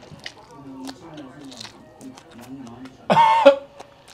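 Near the end, a single loud, close-up cough bursts out after quiet, murmured speech, triggered by the pungent smell of fermented skate in an old makgeolli bar.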